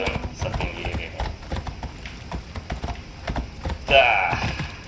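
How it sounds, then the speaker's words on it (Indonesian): A horse gallops in Assassin's Creed Odyssey, with rapid, steady hoofbeats drumming throughout, a brief whinny-like burst near the end, and a person talking over the game sounds. "kalau kuda terjun setinggi ini nih"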